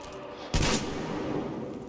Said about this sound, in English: Is this a shotgun or a machine gun right now?